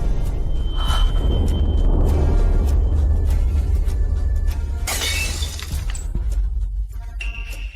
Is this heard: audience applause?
no